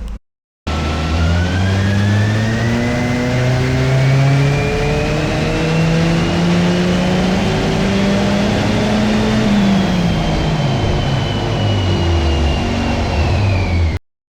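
A turbocharged NC car engine at 17 psi boost revs steadily upward on a dyno, a loud continuous pull with rising pitch that lasts over ten seconds before cutting off abruptly.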